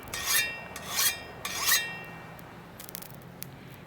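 A hand file rasps across the hardened blade of an axe forged from scrap metal in three sharp, close strokes, followed by a few faint metallic clinks in a quiet room.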